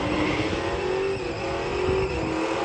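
A Chevy C10 pickup truck roars down a quarter-mile drag strip, its engine note climbing steadily through the gears, loud and sustained with a brief dip at a shift, no voices.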